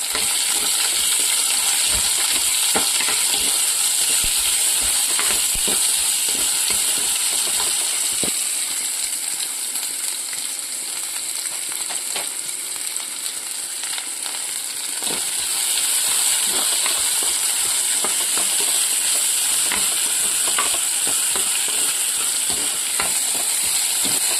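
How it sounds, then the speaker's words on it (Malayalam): Onions and green chillies sizzle steadily in a hot pan for a Kerala mushroom and colocasia leaf theeyal, with continuous loud frying hiss and scattered scraping stir clicks throughout, no talking. "നമ്മൾ ഉള്ളി, പച്ചമുളക് ഇട്ട് കൊടുത്ത് ഒന്ന് വഴറ്റി കൊടുക്കാം."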